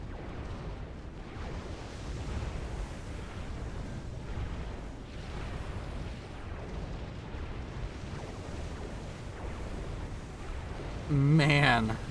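Torpedo explosions rumble through a naval battle in the strategy game Supreme Commander: Forged Alliance Forever, a thick, continuous barrage of low booms that ends in a short, louder burst where a voice briefly cuts in.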